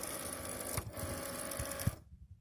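A Cricut cutting machine feeding in a mat of glitter HTV, close whirring motor and mechanical clicks with a couple of thumps, then cutting off abruptly into near silence.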